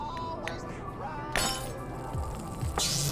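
Glass shattering in the virtual reality game Job Simulator's gourmet chef kitchen: a sharp crash at about one and a half seconds, then a second bright smash near the end, with faint clinks between them.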